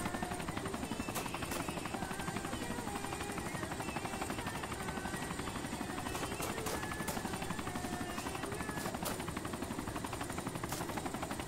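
Continuous steady thrum of a helicopter rotor in a zombie video game, moderately faint and unbroken, with occasional short sharp clicks over the top.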